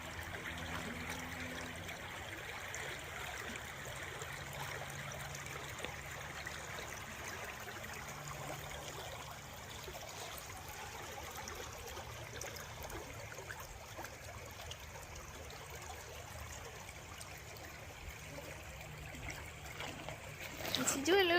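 A rising river flows steadily with a continuous soft rush and trickle, fairly faint and unbroken, with a brief louder bump right at the end.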